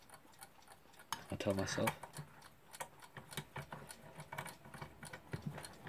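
Wound-up clockwork mechanism ticking in a steady fast rhythm, close and moderately loud, with a brief louder whirring burst early on and a person speaking briefly over it.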